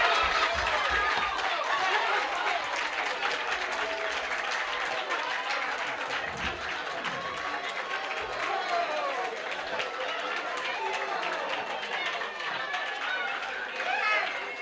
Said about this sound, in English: A round of applause for KOMENDA.